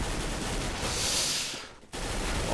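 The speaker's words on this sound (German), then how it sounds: "Ah, war ein netter Schuss von Neo" Dense automatic gunfire in the video game CS:GO on the de_mirage map, a loud continuous burst of rapid shots that cuts off briefly near the end before resuming.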